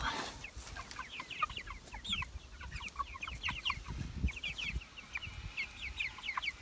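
Many broiler chickens, about 25 in a pen, cluck and chirp together in a steady, busy chatter, fairly close, with soft rustling underneath and no talking.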